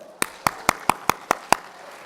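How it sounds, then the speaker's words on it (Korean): A church congregation clapping during a sermon, seven crisp, evenly spaced hand claps in a steady rhythm, close and fairly quiet, rather than a sustained round of applause. "여러분 박수"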